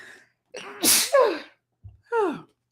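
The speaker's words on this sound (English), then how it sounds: "Sneeze." A single close sneeze, sharp and sudden, with a quick breathy intake before it and a short nasal exhale after.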